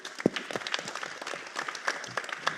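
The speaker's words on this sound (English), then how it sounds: "Give yourselves a round of applause." Applause for athletes at a live boxing press conference, a crowd clapping steadily and fairly close for the whole stretch, with scattered sharper claps and faint voices mixed in.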